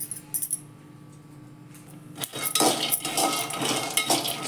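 Peanuts dry-roasting in a kadhai with no oil, heard first as a few sparse metallic clinks, then from about the halfway point as a louder, continuous close rattle and scrape of nuts and spoon against the metal pan.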